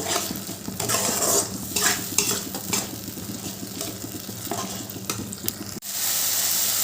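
Spice paste with ground cashew and melon seeds being stirred into frying masala in a pan for a soybean curry, a spoon scraping in quick irregular strokes over a constant sizzle, close and fairly loud.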